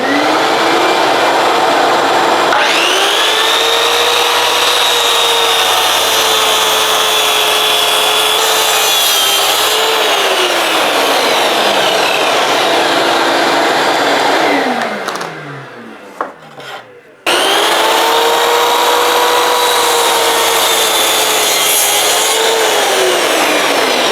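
A track saw cuts through plywood in long passes, a loud, steady whine with a woody grinding edge. The blade spins down near the middle, briefly goes quiet, then a second cut starts up and runs to the end.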